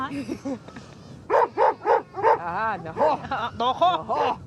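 A dog at a Mongolian nomad camp gives a run of close, loud yips and barks, several quick bursts in rhythm, with brief speech at the start.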